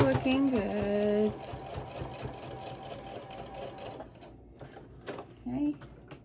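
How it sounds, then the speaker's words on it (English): A sewing machine running a second line of stitching on a zipper pouch, a rapid close mechanical whir that slows and stops, with a person talking throughout. "I'm gonna sew it again. Just because I like to sew mine twice"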